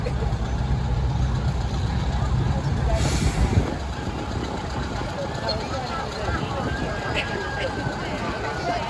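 Military vehicles, including a restored World War II Sherman-style tank, rumble and idle at an outdoor military show, with a steady low engine drone, a brief hiss partway through, and crowd chatter mixed throughout.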